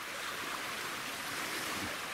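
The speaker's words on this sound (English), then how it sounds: "The wind and the river." A woodland river flows steadily through autumn trees, a broad even rush of water mixed with wind, constant and fairly close, with no voices.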